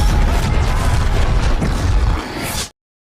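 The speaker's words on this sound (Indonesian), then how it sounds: "sebuah pesawat pun jatuh dan meledak" A loud, rumbling plane crash explosion with a deep roar and crackling debris, sustained for a couple of seconds before cutting off abruptly.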